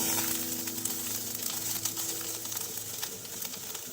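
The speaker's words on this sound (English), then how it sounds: "Taking very little oil in a pan, Once the oil is hot, add the onions." Sliced onions frying in a small amount of hot oil in a pan give a steady, close crackling sizzle that runs unbroken throughout, with no voices.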